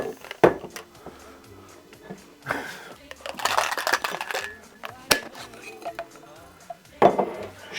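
A cocktail being shaken in a shaker during Christmas drink making, with rattling ice and clinking metal and glass in irregular bursts, loudest near the middle and at the start and end.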